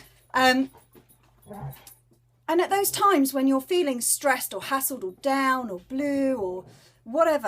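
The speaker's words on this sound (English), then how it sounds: "the day when the dog's annoying me because he's begging to go for a walk" A dog whimpers and whines in the background, begging to go for a walk, under a person talking steadily in the foreground.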